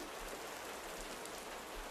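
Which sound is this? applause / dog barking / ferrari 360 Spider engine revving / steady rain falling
steady rain falling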